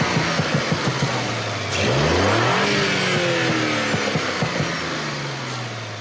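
An Audi S4 turbocharged engine idles with a pulsing burble, then revs up sharply and settles back, loud and close, with a throaty exhaust rumble throughout.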